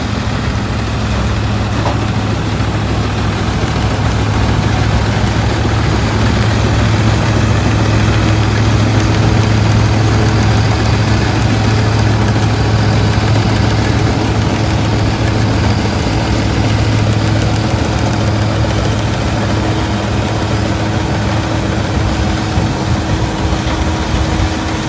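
Tractor engine driving a 2021 Jagatjit straw reaper with no load, a loud, steady idling drone with constant low vibration heard up close throughout, no voices.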